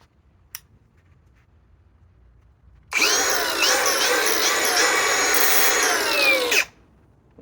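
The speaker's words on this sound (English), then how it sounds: "And this is an 8 amp Forge battery, fully charged. And here's my big ass tongue that I used a 1 7/8 ball on. It's kind of rusty. I'm going to take the rust off of it." A Milwaukee M18 Fuel 3672-20 One-Key angle grinder on an 8 amp Forge battery spins up to grind rust off a steel trailer tongue, a loud, close, harsh whine for about four seconds between quiet stretches, with one small click before it starts.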